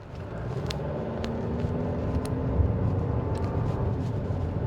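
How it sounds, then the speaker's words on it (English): A Lexus NX350 with a turbocharged engine, driving along with a steady low drone of engine and road noise and a faint rise and fall in level, no voices. "And that sound of that turbocharged engine is very nice as well."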